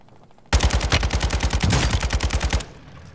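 Sustained rapid automatic gunfire in a video game, a loud close burst of about two seconds with evenly spaced shots, cutting off abruptly into quiet.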